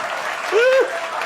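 Audience applause at a Hindi storytelling talk: a short burst of clapping with a brief voiced tone rising and falling over it.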